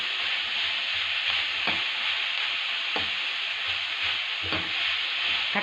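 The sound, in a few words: onion and eggplant frying and stirred in oil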